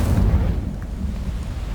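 A fiery Incendio spell bursts out in Hogwarts Legacy with a deep, rumbling whoosh that swells loudly at first, then fades into a low, steady roar.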